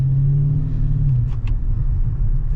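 Low, steady engine rumble from a 2013 Dodge Super Bee running in manual mode, close and loud, with a slight drop in pitch partway through and a brief faint sound near the middle.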